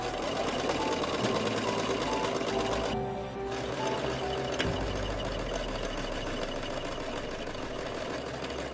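A sewing machine stitches face masks with a steady, close mechanical whirring that runs continuously. It drops out in one brief pause before resuming at an even pace.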